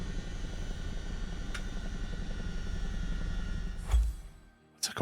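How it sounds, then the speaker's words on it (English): A Chinook helicopter powering down in a flight simulator, a steady droning rotor and engine whine that holds, then swells briefly before fading toward near silence, with a short final burst at the end. "Chinook is a bit bugged with shutting down, I believe. Oh, hang on, it's doing it now."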